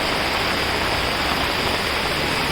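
Heavy rain pours steadily onto flooded Mumbai streets, a dense, unbroken hiss of falling water and runoff filling the whole moment at close range with no letup.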